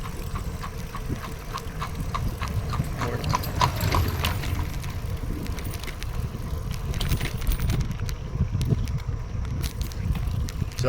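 An Amish horse pulls along a paved bike trail in Ohio, its hooves clip-clopping in a steady, fairly close rhythm under a low background hum.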